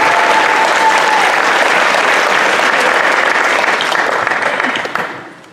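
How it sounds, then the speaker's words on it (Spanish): A large audience applauds steadily at an Anti-COP climate gathering in Oaxaca, Mexico, dense continuous clapping that holds strong for several seconds before fading out at the end. "Un aplauso."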